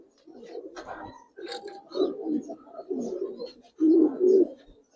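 Giribaz and coloured pigeons coo nearby in steady, throaty rolling phrases, several overlapping calls with a couple of louder bursts near the end, no talking.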